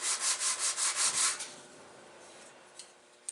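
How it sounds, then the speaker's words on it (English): Wooden turkey call parts, a maple-framed tone box and base, rub back and forth on 120 grit sandpaper in about seven steady, even strokes, then stop, leaving quiet workshop room tone and a couple of small knocks. "It's all framed with maple 2x4s. And I've got 120 grit sandpaper on there."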